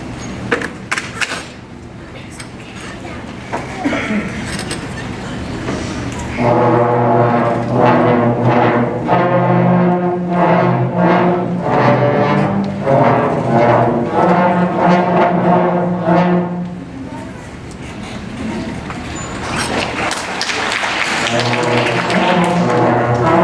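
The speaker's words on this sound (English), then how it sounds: "this has all of our back row playing, the trombones, euphoniums, tubas, and bassoon." Band low brass section with trombones, euphoniums and tubas plus bassoon playing the harmony to Ode to Joy, a full sustained chordal passage of steady held notes in a room, loud and continuous with no talk.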